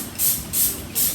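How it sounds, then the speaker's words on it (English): Three short hissing bursts from a spray bottle misting alcohol over freshly poured handmade soap, close and evenly spaced, with no voices. "spray it really nicely with the alcohol."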